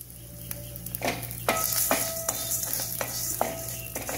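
Black urad dal frying in oil in a pan for a vadagam chutney, a soft steady sizzle broken by several sharp scraping stirs close by, with no talking.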